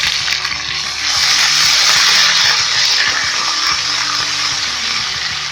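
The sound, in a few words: garlic ginger paste frying in pan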